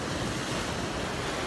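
Ocean waves wash onto a shoreline in a loud, steady, unbroken rush of surf, with some wind buffeting the microphone and no voices.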